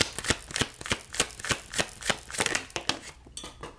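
A deck of cards is shuffled for a card reading, producing loud, close riffling bursts repeated in a steady rhythm about every third of a second, with no talk over them.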